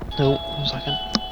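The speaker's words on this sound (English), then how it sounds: "That's a doorbell." A doorbell chime rings out in a War Thunder naval battle, a two-tone ding-dong heard under brief talk, with a short extra chime near the end.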